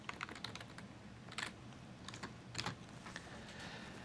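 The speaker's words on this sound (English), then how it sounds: "you can start typing in here" Quiet clicking of keys on a computer keyboard, a few short bursts of typing with pauses between them, soft and nearby.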